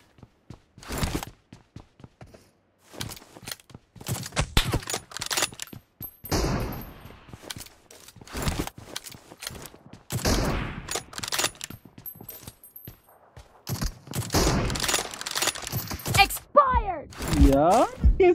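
M24 sniper rifle fire in PUBG Mobile: sharp single cracks scattered irregularly through a long stretch of match audio, some close and loud, others fainter, with footsteps and other game noise between the shots.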